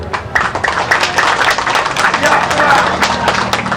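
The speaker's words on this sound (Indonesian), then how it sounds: "kita berikan tepuk tangan pada beliau" Lively clapping from a gathered audience at an organization's welcoming speech, sharp uneven claps close by over background voices and crowd murmur.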